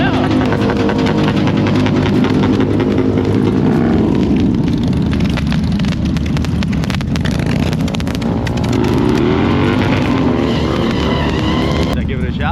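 A motorcycle engine roars loudly and steadily at close range on a street, its revs sweeping up and down over a constant drone, with voices faintly present beneath.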